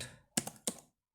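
Three crisp keystrokes tapped on a computer keyboard, close and fairly loud, spaced unevenly with short pauses between them and no voice over them.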